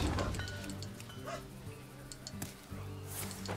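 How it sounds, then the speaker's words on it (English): Small dogs bark and yip in the background, a burst of sharp high barks followed by scattered yaps and whimpers, moderately distant. "Got noisy dogs in the background."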